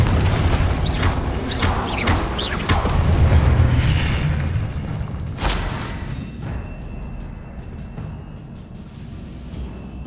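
A Confringo spell explosion in the video game Hogwarts Legacy booms loudly at the start and rolls on as a sustained crash and rumble, with a sharp secondary burst midway before fading under game ambience.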